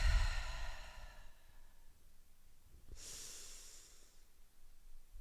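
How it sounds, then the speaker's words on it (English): Breathing during yoga: a long audible exhale through the nose fades out, then after a pause a softer airy breath follows, close and quiet. "Breathe."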